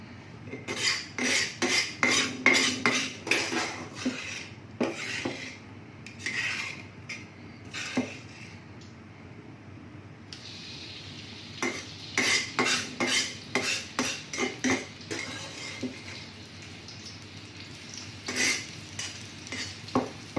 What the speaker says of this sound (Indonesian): ayeuna upami atos urang panaskeun komporna, terus urang goreng bumbuna